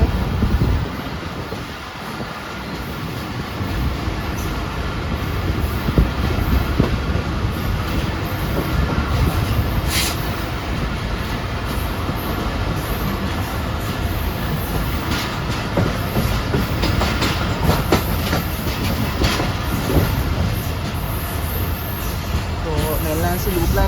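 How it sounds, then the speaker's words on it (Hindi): Shalimar Express rolls from the main line onto the loop line near Nawabshah station, a steady loud rumble heard from on board with clickety-clack wheel beats and occasional squeals as it crosses the points. "मेल लाइन से लूप लाइन पे जाएगी रेलगाड़ी।"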